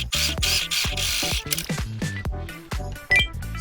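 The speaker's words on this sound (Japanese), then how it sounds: "先ほどアイロンをかけました外ポケットのポケット口の端のところにも端ステッチします。" Sewing machine edge-stitching the opening of an outer pocket on a lined tote bag, a fast mechanical whirr broken into short bursts with clicks and pauses, close and fairly loud.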